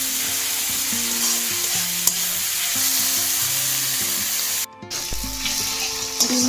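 Fried egg, onion, carrot, beans and cauliflower are stirred in a hot pan for chow mein. A close, steady sizzle runs under scraping stir strokes, broken by a brief drop near the end.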